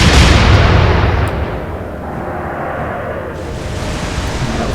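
Deep booming warship gunfire from the naval video game Atlantic Fleet, a loud broad blast that rolls away into a long fading rumble.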